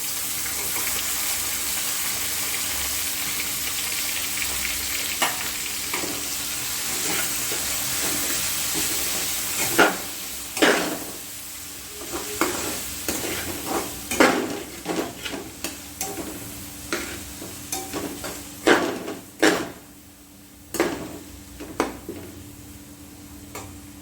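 Green chilies and tomato stirred into a hot pan for egg kothu chapathi, with a steady low sizzle under sharp clicks and scrapes of a spoon against the pan that grow busier in the second half.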